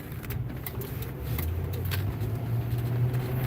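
A 2006 Mercury Grand Marquis LS driving under acceleration, a steady low engine hum with a rising tonal transmission whine layered over road noise, close and continuous.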